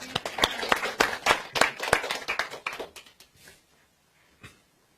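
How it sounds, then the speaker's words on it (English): A small audience claps for Ruckman, a few seconds of close, uneven hand claps that thin out and stop, followed by near silence and one last faint clap. "Let's all give Ruckman a round of applause."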